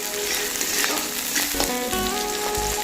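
Half-fried onions and capsicum sizzle in a pan for a soybean curry, a continuous close crackle with a few stirring scrapes, no voices.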